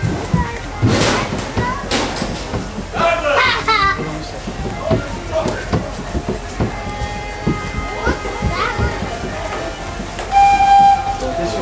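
The Eastern Star Railways train at Rafiki's Planet Watch rumbles and clatters, with whistle-like tones. Children and other people talk and call out nearby throughout.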